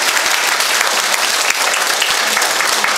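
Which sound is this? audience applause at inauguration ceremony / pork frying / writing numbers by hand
audience applause at inauguration ceremony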